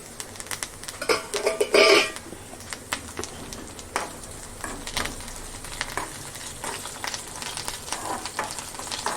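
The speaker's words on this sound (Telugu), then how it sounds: "ఇంకొంచెం ఉల్లిపాయని ఫ్రై చేద్దాం. మరి ఎక్కువగా వేయించిన చేదు వస్తుందండి." Onion frying in a pan with curry leaves gives a steady close sizzle, with a few sharper spits and occasional stirring scrapes throughout.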